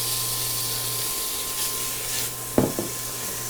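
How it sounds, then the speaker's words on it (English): Bacon sizzles steadily in a Dutch oven on medium heat, a constant hiss with a couple of brief clunks near the end. "we're going to go ahead and put in our bacon"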